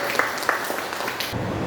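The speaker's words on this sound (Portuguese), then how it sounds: "Você pode aplaudir o Senhor aí?" A church congregation applauds during a worship service, a brief burst of scattered clapping that thins out and fades after about a second and a half.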